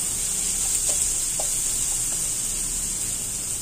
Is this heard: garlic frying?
yes